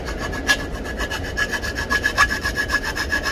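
A close, steady grinding whine with a rhythmic rasping pulse, a drill biting through an e-bike's metal for a key lock, continuous throughout.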